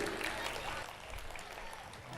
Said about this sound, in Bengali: তার জন্য একটা জোরে হাততালি হতে পারে কি?